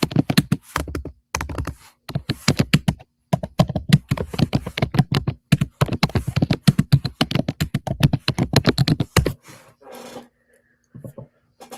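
A question is typed on a computer keyboard as a rapid, continuous run of close key clacks with brief pauses, loud and near, then stopping near the end.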